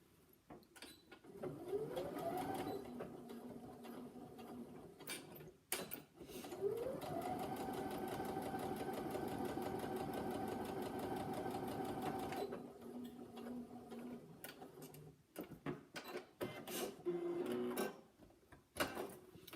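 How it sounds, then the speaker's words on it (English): A sewing machine stitches fabric with white cotton thread in several runs, its motor whirring up in pitch and holding a steady rapid clatter, pausing between bursts with small clicks and handling noises. "I'm just going to machine it straight away here."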